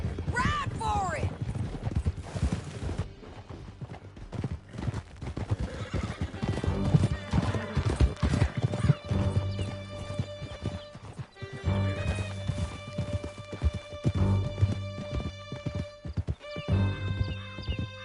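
Horses gallop across a Red Dead Redemption 2 canyon, hooves clip-clopping steadily and loudly, with whinnies and crashing near the start. Galloping thins out later, and steady game music tones come to the fore.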